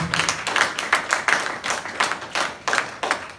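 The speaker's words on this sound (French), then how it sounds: "Give a clap of applause" A church congregation claps during a Sunday service: a quick run of close, sharp handclaps in an uneven rhythm, several hands together, with no talking over them.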